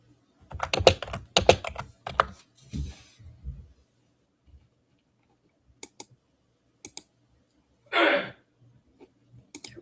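Bursts of typing on a computer keyboard, with fast clustered key clicks early on, then sparse single taps and a short rapid run of keystrokes near the end, close and fairly quiet.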